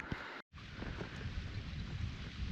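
A Honda outboard boat motor runs steadily with a constant drone and heavy wind noise, one brief dropout near the start.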